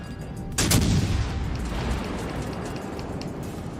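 Enemy ship gunfire in the naval battle game World of Warships Legends: a single heavy boom lands sharply, then a long rumbling tail continues with faint crackles underneath.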